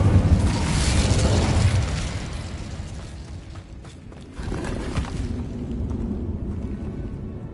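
Fire spell cast in a wizard video game, a loud roaring whoosh of flame up front that fades, then a second surge of crackling burning that carries on steadily to the end.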